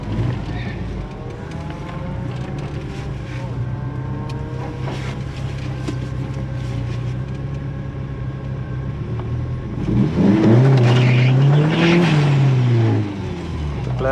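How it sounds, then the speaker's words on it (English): At a night drag race, a turbocharged 1.8T Mk2 Golf GTI lines up against an Audi S3, a steady engine drone rumbling under faint background noise before the engines swell into a loud, rising acceleration roar near the end. "Starting the night off racing Tariq Clark in the S3"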